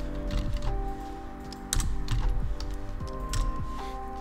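A terminal command typed on a computer keyboard under Linux, a run of uneven key clicks over a steady electronic hum with tonal whine, moderately loud and close.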